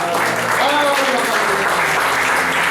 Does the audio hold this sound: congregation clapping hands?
yes